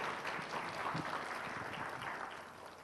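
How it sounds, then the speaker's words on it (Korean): Church congregation at a Sunday service applauding the women's committee leaders with steady, moderately quiet clapping that holds evenly for a few seconds before easing slightly. "큰 박수로 우리 격려하도록 하겠습니다."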